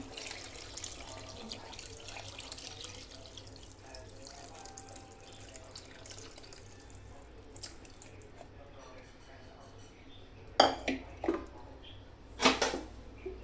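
Tamarind juice is poured into dal in a pot, a watery trickle and splashing that is faint at first, then swells into two louder close gushes toward the end, with a voice talking at times.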